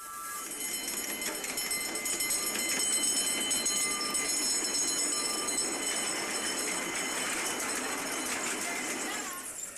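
Live steam model locomotives on a 5-inch gauge track run past with a continuous rolling rumble and high metallic wheel squeal that swells gently in the middle and then fades.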